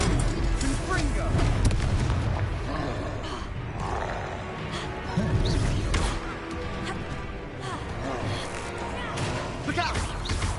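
Confringo fire-blast spells burst in a Hogwarts wizarding video game, with several heavy booms and crashes among roaring game effects and constant background rumble, while voices talk throughout.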